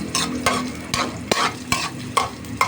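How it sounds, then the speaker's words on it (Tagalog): Garlic and onion sautéing in a pan for pancit, with a loud continuous sizzle and rhythmic scraping stirs about every half second, close up, no talking. "Igisa natin yung bawang sibuyas."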